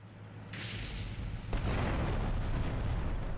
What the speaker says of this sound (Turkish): Patlama oldu.